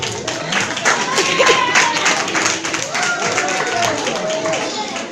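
An audience at a Christmas poetry reading in Lisbon breaks into steady, close clapping that holds for several seconds without a break.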